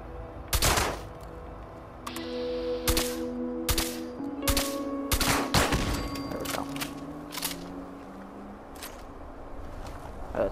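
Video game gunfire, a handful of sharp separate shots early on and then scattered bursts, loud and close, ringing over a low sustained game score.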